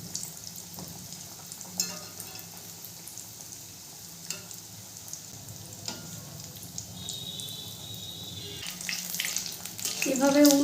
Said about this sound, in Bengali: চপগুলোকে আমি ভেজে নেব।